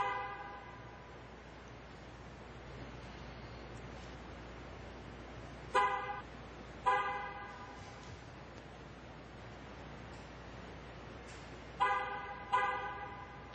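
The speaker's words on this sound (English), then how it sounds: "two horn honks indicate a successful relearn" A GM car horn sounds two short honks to confirm a tire pressure sensor relearn, then two more a few seconds later, loud and close over a low, steady shop hum.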